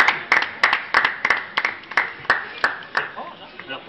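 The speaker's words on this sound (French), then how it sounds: "on l'applaudit" A small crowd at a stage hypnosis show in a food court claps together, a run of sharp, even claps that gradually thins out.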